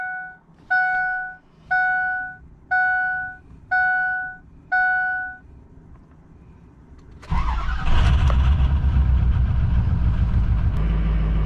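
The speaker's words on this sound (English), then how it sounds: "So we're going to take it for a drive, get everything all up to temperature" A Ford truck with a 6.0 Powerstroke diesel: six evenly spaced warning chimes sound, then after a short lull the engine roars up loud and close, rumbling steadily to the end with no talking.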